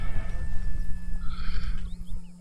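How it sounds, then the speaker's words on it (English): A horse in a video game neighs in a single clear whinny, mid-loud, with faint hoof clip-clop and a steady low hum beneath. "Come here, horsey."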